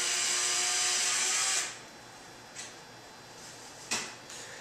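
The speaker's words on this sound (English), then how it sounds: "We're drilling 1 1/4 inches deep for the number 12 1 1/4 inch screws." Power drill boring holes 1 1/4 inches deep for number 12 screws while assembling an ergonomic ADA workstation, a steady close whine that stops abruptly, followed by a couple of faint knocks.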